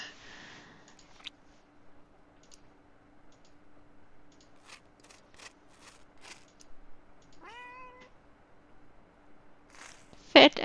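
Game sound of a cat in Pants Quest, a short rising meow in the middle amid scattered soft clicks and faint background hum, followed by a louder burst near the end.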